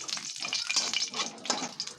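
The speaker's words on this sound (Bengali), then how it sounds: "এই তেলের মধ্যে আর একটু তেল দিয়ে দিচ্ছি দিয়ে দেব দুটো শুকনো লঙ্কা শুকনো লঙ্কাটা একটু ভাজা ভাজা হোক" Two dried red chillies frying in hot oil left over from frying prawns, a bright, crackling sizzle that pops and bubbles close by for a couple of seconds, with no voice.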